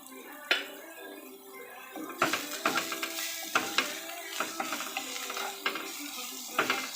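Chopped onions fry in a pan as a utensil stirs them, with steady sizzling and repeated scraping clatters of spoon on metal at a close, moderate level, part of cooking a kochur loti (taro stolon) dish.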